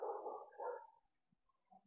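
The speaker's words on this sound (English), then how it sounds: "Caused a dog to bark." Somewhere near a trike ride through a neighborhood, a dog gives a short bark and a couple of faint yips, with no voices.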